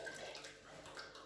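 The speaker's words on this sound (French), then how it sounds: "Pour percer votre brique, le lait descend hyper vite." Milk pours fast from a pierced two-litre carton into a mixing bowl for a flan pâtissier, a soft continuous gurgling stream heard close and alone.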